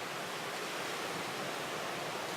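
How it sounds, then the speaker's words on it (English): Ocean waves break on the shore at a dune camping spot, a steady, broad hiss of surf filling the air without pause, fairly faint and distant. "the waves are still coming. Now I'm seeing more 5-foot waves, and it's completely bonkers"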